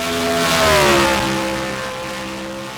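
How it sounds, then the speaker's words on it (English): A race car in a sim racing game laps Pocono Raceway, its engine roaring past near and loud, the pitch sweeping downward as it passes, then settling into a fading drone. "Hunter Mendoza will be the first one out on track, starting his first ever lap at Pocono Raceway."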